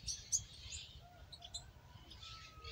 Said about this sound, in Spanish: Por lo menos este pajarito le... Está cantando al suelto.